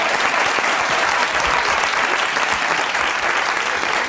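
A studio audience at a Spanish comedy talk show bursts into sustained, loud applause, a thick wash of many hands clapping evenly for the whole stretch with no voices on top.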